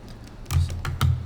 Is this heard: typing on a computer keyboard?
yes